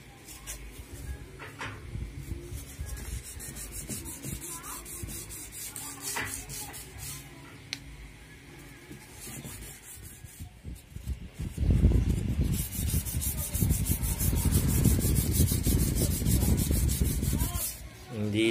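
Repeated rubbing and scraping of sandpaper on a car headlight, growing louder and more vigorous in the later part.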